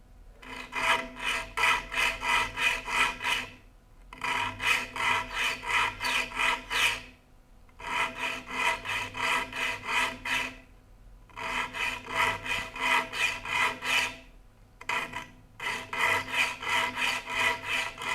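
A hand file sharpens the teeth of a rip saw in rapid, rhythmic rasping strokes, grouped in bursts of about three seconds separated by short pauses, close and loud with no talk.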